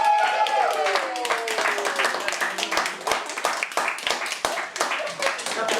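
A small group claps in quick, irregular bursts at a Survivor reunion show, while voices talk and exclaim over it, with the claps staying near and moderately loud throughout.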